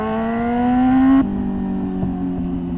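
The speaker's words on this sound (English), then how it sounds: "It's just such an insane exhaust note." A 600cc motorcycle engine revs up to a high pitch, then drops sharply as the rider shifts, settling into a steady, loud exhaust drone close by.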